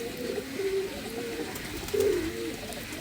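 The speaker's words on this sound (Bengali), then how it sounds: "আর এই যে পিলাঙ্কা নর কবুতরটা দেখুন" A Madrasi pigeon coos softly nearby, a few low throaty rolling calls over a faint background hum.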